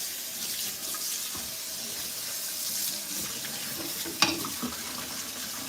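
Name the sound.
rinsing a scoured pot under the sink tap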